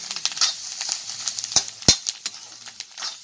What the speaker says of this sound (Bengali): আলু দিয়ে ভাজি করছি